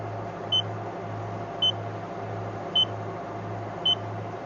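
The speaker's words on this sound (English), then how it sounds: "So each beep is 10 degrees." A sailboat's autopilot gives four evenly spaced short, high beeps, each marking a ten-degree course change, over a steady low chugging motor hum while motoring up a harbour.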